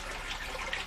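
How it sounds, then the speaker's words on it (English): Water draining from an aquaponics grow bed through a bell valve, a faint continuous gurgling trickle with brief splashy bubbling, with no voices. "This water will drain from one of the growth bed to the bell valve system."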